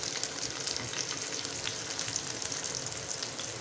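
Steady crackling sizzle of onions frying in a hot pan, continuous and close, with bright hissing spatter throughout.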